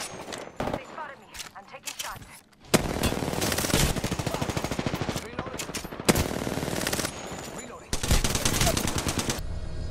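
Rapid automatic gunfire rattles in the shooter game Apex Legends, long loud bursts of fast shots with short gaps between them, some single cracks and near, dense volleys, with a voice talking during the game.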